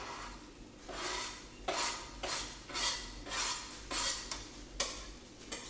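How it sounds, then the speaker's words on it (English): Lentils and vegetables being stirred in a pan for a salmon salad, a series of about eight scraping, clinking strokes of a utensil against the pan in a loose, regular rhythm, close and fairly loud. "And give it a little mix around"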